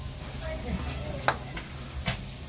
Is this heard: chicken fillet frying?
yes